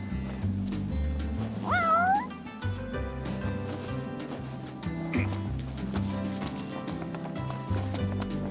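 A cat meows once in the Final Fantasy XV game, a short rising and falling call heard over a steady bed of background music and ambient game sound.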